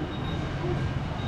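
A standard six-car electric multiple unit train on 3'6" gauge, 25,000 volt AC single track near Redcliffe gives a low, steady rumble at the station, brief and mixed with voices.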